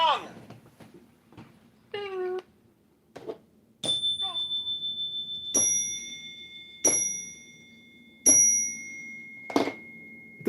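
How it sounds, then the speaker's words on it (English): A gong being rung: several clear metallic strikes, each sustaining a bright ringing tone that overlaps the next. A short meow-like cry comes earlier. "John, ring the gong."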